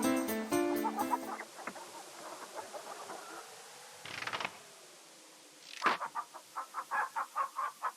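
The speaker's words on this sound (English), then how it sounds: "You pick up the chicken" Game chicken from the King's Quest III remake clucking in short, rhythmic bursts near the end, after a stretch of music and scattered game sounds, close and moderately loud.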